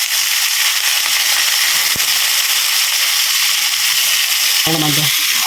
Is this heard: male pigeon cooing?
no